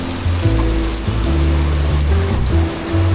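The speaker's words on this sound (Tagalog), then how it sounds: "and it's raining" Rain pours on a street in Ho Chi Minh City, a loud, dense wash of hiss over a low rumble of traffic, with steady engine hums drifting underneath and no talking.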